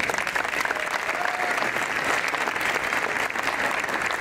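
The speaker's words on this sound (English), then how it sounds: "Let's give Chandler a crowd of hands." An audience claps at a Lebanon High School college signing ceremony for football player Chandler, giving a steady, full round of applause for about four seconds.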